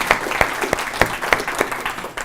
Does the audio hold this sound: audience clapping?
yes